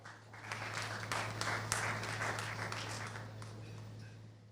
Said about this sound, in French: je vous prie d'applaudir une fois encore